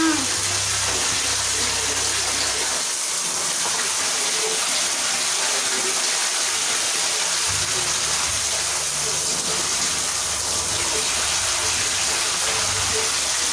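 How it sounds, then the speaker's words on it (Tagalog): Tap water pours steadily for a duck's bath, a loud continuous gush close by with a low rumble that drops out for a few seconds mid-stream. "Ganda ng tulo ng tubig na."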